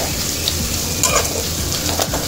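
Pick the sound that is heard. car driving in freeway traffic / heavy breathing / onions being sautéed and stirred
onions being sautéed and stirred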